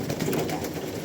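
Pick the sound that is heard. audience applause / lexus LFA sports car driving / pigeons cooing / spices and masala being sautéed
pigeons cooing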